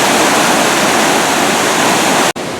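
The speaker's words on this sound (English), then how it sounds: "You have an opportunity to go underneath those waterfalls." A waterfall at the Six Flags Over Georgia amusement park pours with a loud, steady broadband rush that cuts out abruptly near the end, then resumes.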